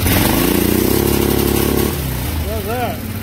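A running engine holds a steady loud drone that drops to a lower idle, then rises through a few quick revs near the end.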